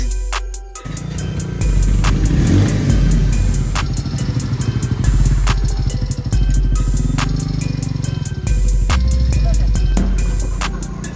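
A motorcycle in its breaking-in period, with about 835 km on it, runs on test with a steady, loud, close engine drone, repeated clicking clatter and brief dips as it idles.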